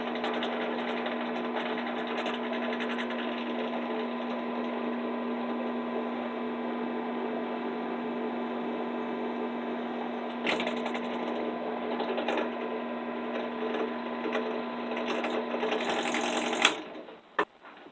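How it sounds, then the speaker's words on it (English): A drill bit bores small holes in a horseshoe nail, a steady, close mechanical whine that runs continuously for a long stretch before stopping with a few clicks. "so I've got all my holes drilled"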